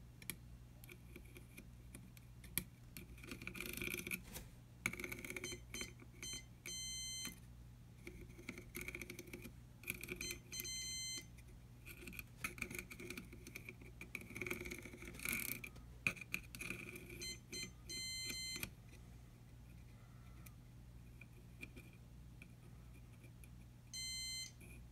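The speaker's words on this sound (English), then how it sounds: "you should hear a beep" Multimeter continuity beeps sound as short electronic tones in separate bursts while probes move along traces on an SNES game cartridge board under repair. They are moderately close and sit over a steady low hum and faint tapping.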